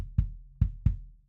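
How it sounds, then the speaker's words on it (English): Three round, low kick drum thumps recorded by a microphone in front of the drum, with a softer attack and slight ringing decay, played alone in an uneven rhythm. "I've got another microphone in front of the kick drum."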